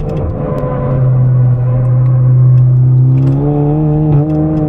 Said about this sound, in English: Make a lot of noise now, wind noise.